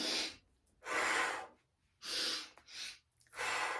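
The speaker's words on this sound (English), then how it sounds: "You're going to breathe in and lift the arms up above the head." Deep, audible breaths drawn in and pushed out during a Kundalini pranayama exercise, slow rushing inhales and exhales alternating about once a second, close and soft with quiet pauses between.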